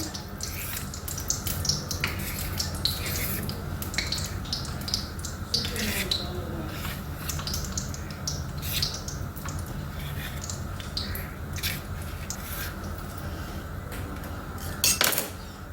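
A knife cuts rolled maida flour dough into pieces for crispy chips. Repeated light taps and clicks of the blade on the board come in an irregular rhythm over a low background hum, with a sharper knock near the end.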